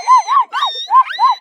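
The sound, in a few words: boy imitating two dogs fighting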